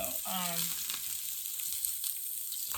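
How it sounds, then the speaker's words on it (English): Potatoes frying in sausage fat with added lard, a close, even crackling sizzle after a brief tonal whine at the start, with no speech. "I like to fry up my sausage and then use that fat to cook my potatoes, and I add more lard and just fry them up like that"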